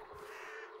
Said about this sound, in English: Crows. On the other side, as I suspected.